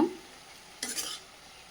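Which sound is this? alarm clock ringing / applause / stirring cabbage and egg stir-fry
stirring cabbage and egg stir-fry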